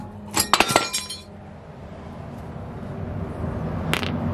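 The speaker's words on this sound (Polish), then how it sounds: "Teraz strzał z młotka powinien" A hammer strikes a truck brake caliper, a few sharp metallic clanks in quick succession near the start, then low background noise and one more faint ringing hit toward the end.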